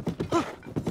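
A horse's hooves clip-clop in quick uneven beats in Zelda: Tears of the Kingdom, a few soft thuds close together with no speech.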